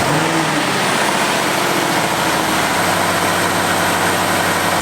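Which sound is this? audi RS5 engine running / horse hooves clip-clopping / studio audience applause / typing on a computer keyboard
audi RS5 engine running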